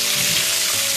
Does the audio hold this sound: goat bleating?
no